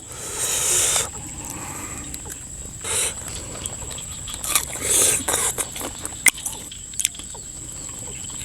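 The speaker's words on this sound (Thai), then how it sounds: "ฝนตก" Steady rain falls outdoors, a constant hissing patter with a few louder rustles and taps, close and fairly loud with no talking.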